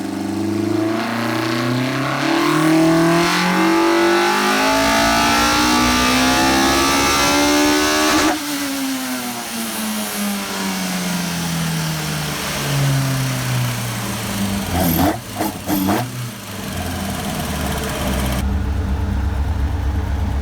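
A fully built, naturally aspirated Toyota 4AG engine with individual throttle bodies, in a rear-wheel-drive car, revs loud and close. Its pitch climbs and falls in long sweeps, then blips sharply before settling back to idle.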